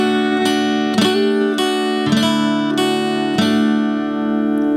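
Acoustic guitar plays a slow fingerpicked and strummed part of a song, with roughly five evenly spaced chord strokes ringing out, close and clear with no voice.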